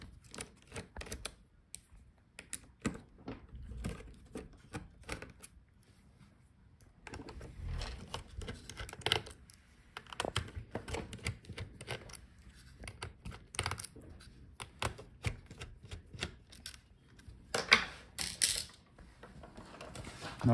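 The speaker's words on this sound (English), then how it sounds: "Now let's unscrew the hinges so we can separate the Palmrest keyboard assembly from" Small screwdriver clicks and faint metallic ticks come from removing the hinge screws on a Dell Precision 3551 laptop, intermittent and close in a quiet room.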